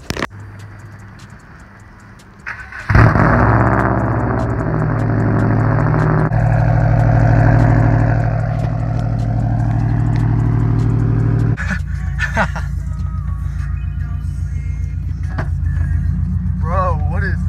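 A straight-piped 2018 Subaru WRX cold start: the engine catches with a sudden loud roar, then holds a steady, raspy high idle that drops slightly lower after several seconds, with no talking.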